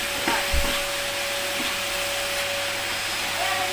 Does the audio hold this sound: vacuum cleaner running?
yes